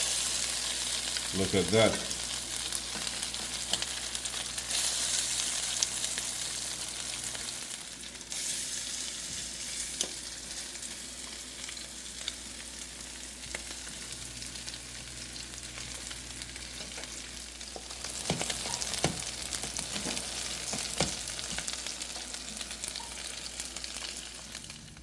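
Crab cakes frying in a pan right after being flipped give a steady, close sizzle that runs throughout, with a brief spoken remark and a few light clinks over the frying.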